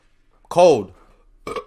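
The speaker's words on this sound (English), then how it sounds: "I burped, my bad" A single loud, drawn-out burp with a falling pitch, followed after a pause by a shorter second belch-like sound, up close with no talking.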